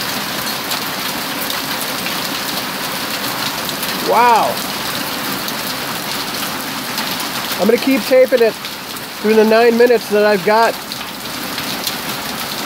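Steady pea-sized hail and heavy rain pound down outdoors throughout, a dense continuous hiss and patter, while someone speaks briefly a few times over the storm.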